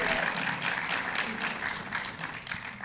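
Congregation applauding in a church, dense continuous clapping that fills the space, steady and fairly loud throughout with no voices standing out.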